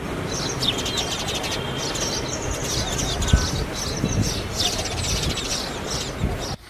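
House sparrows chirp repeatedly in quick bursts against a steady background of wind and outdoor noise, moderately close.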